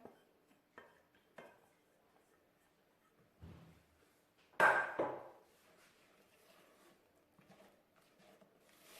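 Melted chocolate being stirred into egg yolks in a bowl for chocolate mousse, with sparse clinks and scrapes of a utensil against the bowl and one louder knock midway, mostly quiet between strokes.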